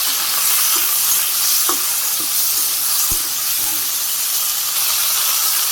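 Potatoes with turmeric and dried chilli powder fry in a pan, giving a loud, steady broadband sizzle and hiss throughout, with a few faint clinks of stirring.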